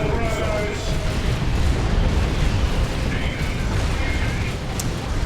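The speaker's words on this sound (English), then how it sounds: "There goes another tank buster barrage to try to take out this relay beacon." Tank buster barrage explosions in Dawn of War II: Retribution, a continuous rumbling wash of booms and blasts over a busy battle, with someone commentating over it.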